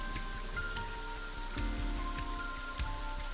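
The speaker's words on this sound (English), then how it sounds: "A parasol is getting pelted by the rain." Rain pelts a parasol in the video game AI: The Somnium Files, a dense, soft patter of drops with a few sharper taps, steady and fairly quiet with a low hum underneath.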